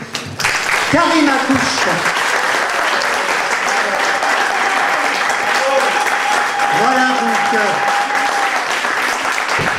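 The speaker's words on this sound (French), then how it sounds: "vous pouvez continuer à applaudir." An audience applauds after a book excerpt reading at a café gathering, with continuous clapping throughout while someone speaks over it and a thin whistling tone runs through the middle.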